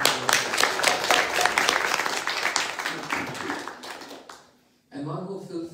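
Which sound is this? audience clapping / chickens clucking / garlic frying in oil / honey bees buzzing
audience clapping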